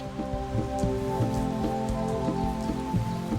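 Heavy tropical downpour pounding steadily on foliage and surfaces around a group of chimpanzees, a dense continuous hiss with scattered nearby drips and no voices.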